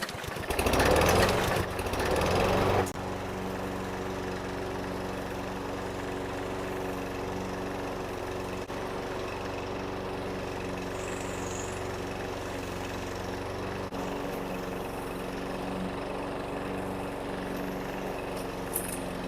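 Lawn mower cutting grass, a steady close engine drone held throughout, with a louder burst of cutting noise at the start.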